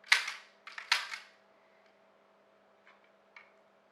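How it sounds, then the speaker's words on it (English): Sharp trigger clicks of a gun, recorded on a Canon C70 camera: two or three loud close snaps at the start, then a few faint clicks in otherwise near silence. "Might work well for the camera to actually have like a trigger noise."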